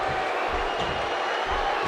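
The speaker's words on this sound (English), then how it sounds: "Would you listen to this crowd show their appreciation for these amazing competitors?" Crowd cheering in the wrestling video game WWE 2K15, a dense, steady roar of arena noise that holds at an even level from start to finish.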